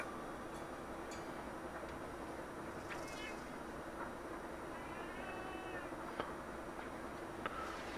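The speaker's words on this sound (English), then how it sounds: "Weird cat." In Monster Hunter Online, a cat gives a few faint meows over a constant steady game background hum. Small ticking clicks break in now and then.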